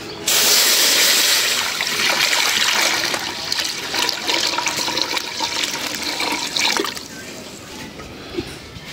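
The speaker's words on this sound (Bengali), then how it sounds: "এই যে এখন কড়াইতে পানি দিয়ে দিই" Water pours into a cooking pan (karai) on a stove, a loud, close splashing gush that gradually settles into a softer trickle, heard alone without speech.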